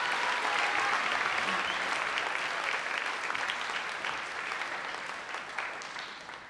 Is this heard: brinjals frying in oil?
no